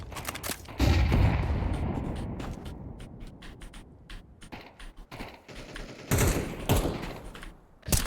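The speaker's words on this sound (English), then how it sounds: "Throwing flashbang." A booming flashbang blast followed by scattered gunfire and rattling shots in a first-person shooter video game, loud up close with a second heavy burst later.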